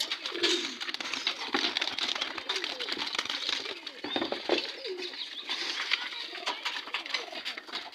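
Caged pigeons coo softly and steadily as they go into their pens one by one, with faint wing flutters and low human sounds in the background.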